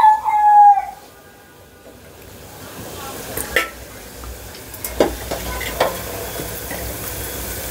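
Food fries in hot oil until red and crisp, with a low sizzling hiss broken by sharp clinks and scrapes from stirring. A brief tonal sound opens the clip before the frying settles in.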